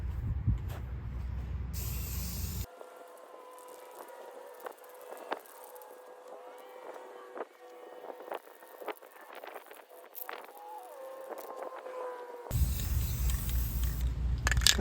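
Spray paint can laying down a second coat on military bridge plates being restored, heard as steady hissing bursts at the start and end, with quieter rattling and handling sounds in between.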